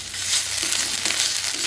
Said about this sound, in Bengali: এটাকে ভালোভাবে নেড়ে নিয়ে যতক্ষণ কাঁচা গন্ধটা চলে যাচ্ছে ততক্ষণ এটাকে ভালোভাবে এখানে নেড়ে নেব